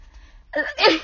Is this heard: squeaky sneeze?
yes